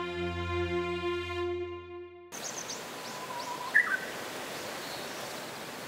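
Morning birdsong rings out by a mountain stream on the Naka River system in Tokushima: after a couple of seconds of steady tones, a constant rushing ambience carries faint high chirps, with one brighter call near the middle.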